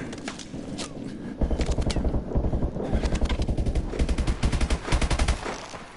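Rapid automatic gunfire from Call of Duty: Advanced Warfare, bursts of closely spaced loud shots firing in quick rhythmic volleys with brief pauses between, near and punchy, with faint game noise underneath.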